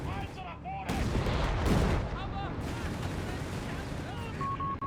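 Dense Company of Heroes 3 battle gunfire, a Panther squad engaging a Vickers machine gun team, with rattling bursts and heavy impacts under a commentator's steady talk and intermittent game tones.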